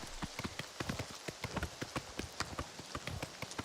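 Horse hooves clip-clopping at a steady trot in Oblivion Remastered, a rapid even rhythm of sharp, close hoofbeats with a faint ambient hiss beneath and no talking.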